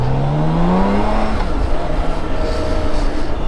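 Traffic passes close by on the road as a motorcycle rider travels, with a rising engine drone and a dense steady rush of vehicle and road noise throughout.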